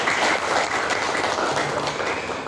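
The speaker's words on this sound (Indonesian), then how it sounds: "Tepuk tangan buat kami Bapak Ibu sekalian." Audience applause at an Islamic school Quran recitation and public examination ceremony in Surabaya, a steady wash of many hands clapping together, moderately loud and continuous throughout with no talk over it.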